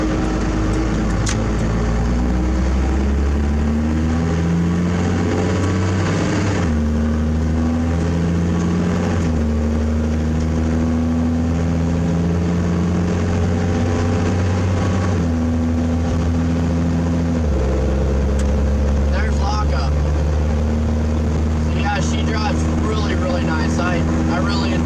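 A first-generation Cummins truck with a 47RH automatic transmission drives steadily, its diesel engine droning loud and close with several distinct shifts as the engine pitch drops, while a person talks over it.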